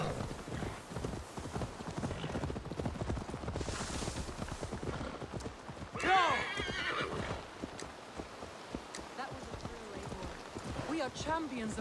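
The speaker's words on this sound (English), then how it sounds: "Now to deliver Magni his horse" Horse hooves clip-clop in a steady rhythm in Assassin's Creed Valhalla, with a loud neigh midway and rain pattering in the background, while someone talks over much of it.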